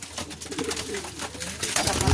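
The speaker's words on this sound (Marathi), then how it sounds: "आमच्या इथला टॉपचा कबूतर रेसर 1000 किलोमीटर 1 तासात पायणारा कबूतर" A racing pigeon coos close by in soft, repeated phrases over a noisy, rustling background, ending with a louder burst of noise.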